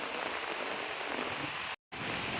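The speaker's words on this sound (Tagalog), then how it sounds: "dahil lumalakas na yung ulan, babalik na po tayo sa unit" Heavy rain pours steadily onto surfaces during a family getaway at a hotel in Tagaytay, a dense continuous hiss with a brief dropout near the end, no voices.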